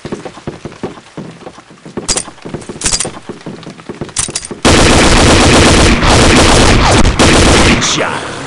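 Heavy gunfire bursts out near and loud: scattered single shots and short volleys, then a dense, sustained barrage of rapid automatic fire that fills the last half of the scene.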